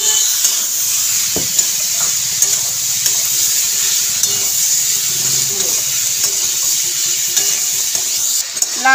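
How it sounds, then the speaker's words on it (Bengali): Bottle gourd sautéed with spices sizzles steadily in a pan, with bright frying hiss throughout and occasional soft scrapes and clinks of stirring, close and fairly loud, with no talking. "লাউটা দিয়ে মশলার সাথে ভালো করে কষিয়ে নিয়েছি"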